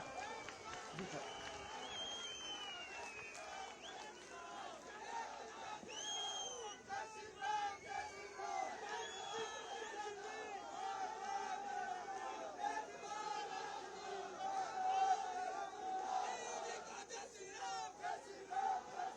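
Crowd at a state anniversary ceremony in Bharmour, Himachal, shouting slogans in ragged unison over general chatter, voices rising and falling in waves, moderately distant and somewhat faint.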